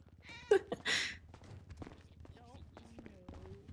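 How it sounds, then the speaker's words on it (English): Cat meows ring out twice near the start, fairly loud and close, followed by quieter rustling and movement, with faint speech in the background of a livestream room. "Where is that cat? God, I can hear that cat."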